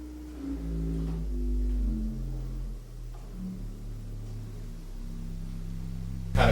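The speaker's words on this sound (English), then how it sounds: "we have a big set of stopped wooden pipes that sort of give us our rattling bass on the organ" Low bass notes from stopped wooden pipes on a pipe organ sound one after another, deep soft humming tones with a slight rattle, fairly quiet and close, ending in a brief louder thump.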